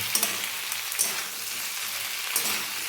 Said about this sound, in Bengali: টমেটোটা দিয়ে দিলাম দিয়ে আবারও এটা ভালো করে আমি এইভাবে নেড়ে নেব